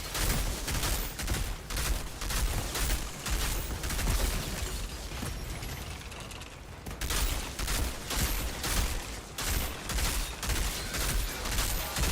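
Rapid automatic gunfire from the shooter game Outriders, with dense repeated bursts and a short pause midway before the firing resumes, loud and continuous without speech.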